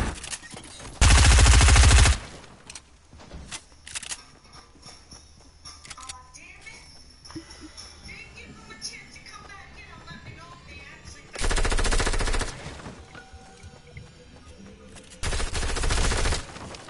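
First-person shooter gunfire erupts in three loud, sustained automatic bursts with quieter game sounds and talking players between them.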